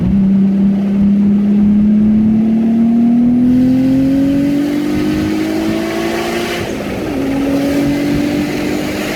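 A single-turbo Nissan R32 GTR engine revs hard on an all-wheel-drive dyno, a loud, close engine tone climbing steadily through a long pull, then dropping briefly and rising again, with no voices.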